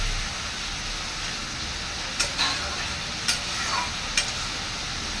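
Beetroot with cumin powder stir-frying in a pan, a constant close sizzle with a few sharp spatula knocks spaced about a second apart toward the end.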